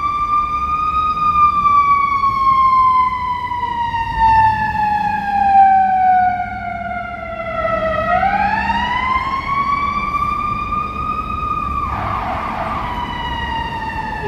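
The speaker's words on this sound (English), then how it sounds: "This siren's been trailing us." A loud ambulance siren stuck in Chicago city traffic on Michigan Avenue, wailing in long slow sweeps that fall and then rise again, with a brief burst of noise near the end over a low traffic rumble.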